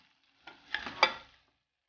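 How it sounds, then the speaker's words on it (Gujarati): Granular gajar halwa, carrot pudding with dry fruits, being stirred in a pan: a few quick, soft scraping and sizzling strokes close by, then quiet. "હવે બધું મિક્સ કરી લઈશું"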